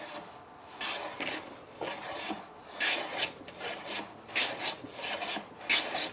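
Hand plane shooting a wooden drawer edge square, a series of rhythmic rasping strokes, about eight short swishing passes, close and distinct with no talk.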